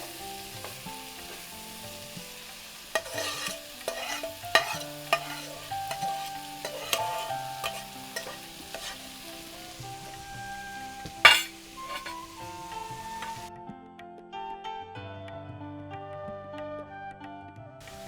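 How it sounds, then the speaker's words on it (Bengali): Sautéed vegetables being stirred together with cooked rice in a frying pan, a steady sizzle under repeated scraping and clinking strokes of a utensil, close and moderately loud, without talk. "সাথে এটা আমি ভেজিটেবলটা যেহেতু আমি একটু সতে করেছি, তো এখন পুরোটা এক করে ফেলছি।"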